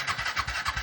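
A rented scooter's engine cranks and sputters repeatedly without catching, a quick pulsing churn heard up close.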